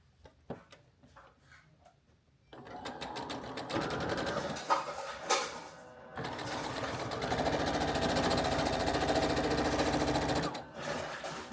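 Sewing machine stitching quilt block seams, a steady close whirring run after a few quiet clicks, pausing briefly midway and then continuing before stopping near the end.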